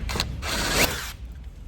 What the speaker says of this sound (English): if I've got my drill handy, I can go ahead and run my hole